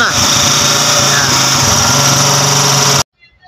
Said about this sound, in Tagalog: Ayan o, palyado siya. Tapos nagbabackfire.